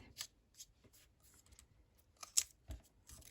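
Scissors snipping paper up close, a few quiet, irregular cuts with soft rustling between them, no voices.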